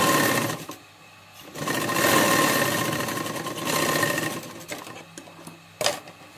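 An electric sewing machine stitching the neck strip of a burqa, running in several bursts of rapid mechanical whirring and clatter separated by short pauses, close and loud, with a sharp click near the end.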